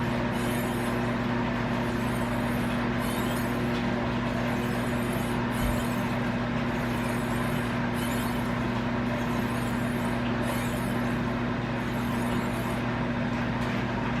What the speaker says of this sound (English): I got my clothes going in the dryer right now.